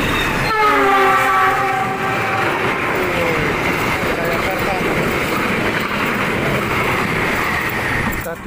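A vintage locomotive shunting at Kertosono railway station in Indonesia, its horn sounding loud and close at the start, followed by a continuous heavy rumble of rolling wagons and engine, with a voice faint beneath.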